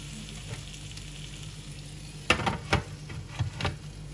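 Salmon fish grilling in a pan makes a continuous soft sizzle, broken by a few brief clattering utensil knocks near the end.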